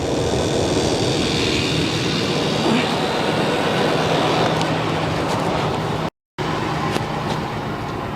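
1999 Ford Explorer engine with a misfire idling, a steady, loud, close rumble with broadband noise throughout, briefly cut to silence for a moment near the end.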